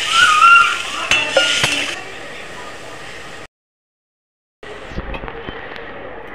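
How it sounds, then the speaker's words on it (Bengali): Warm water poured into a sizzling katla fish curry: a loud burst of hissing crackle that quickly subsides to a softer steady simmer, with a gap of silence before the bubbling resumes. "উষ্ণ গরম জলটা দিয়ে দেবো, পাতলা জল"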